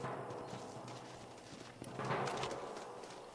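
Horses' hooves clip-clop in the Red Dead Redemption video game, a soft, irregular patter of steps moving over the ground, with a brief louder rustle partway through.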